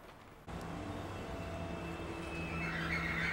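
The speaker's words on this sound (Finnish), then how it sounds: "Tuosta oli yksi juna menossa Westerhaningen päin." A train pulls through Jordbro station on the Stockholm commuter line, heading toward Västerhaninge. It makes a steady, fairly loud rumble that comes in abruptly and then holds, with a faint high whine near the end. No one speaks.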